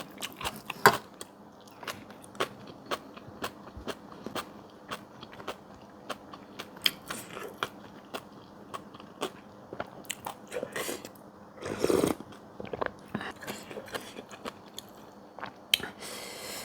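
Close, crisp biting and chewing of crunchy boiled bitter bamboo shoots eaten with rice and a stir-fried mango chili paste with dried shrimp, with many short regular crunches and no talk.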